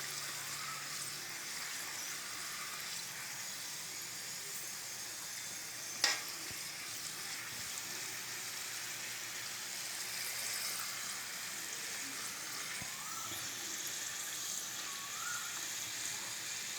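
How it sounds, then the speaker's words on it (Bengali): Cream rolls deep fry one at a time in hot oil, a continuous bubbling sizzle with one sharp tap partway through, steady and free of talk. "আমরা একটা একটা করে ভাজছি"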